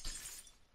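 Glass shattering in Minecraft, a short bright crunch that fades quickly in under a second, fairly quiet and heard alone.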